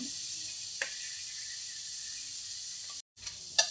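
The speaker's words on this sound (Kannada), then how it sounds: "ಕ್ಯಾಬೇಜ್ ಒಂದು ಸ್ವಲ್ಪ ಚೆನ್ನಾಗಿ ಫ್ರೈ ಆಗಲಿ" Shredded cabbage fries in a pan with a steady, soft high sizzle and faint hiss, broken by a few light clicks and a brief gap near the end.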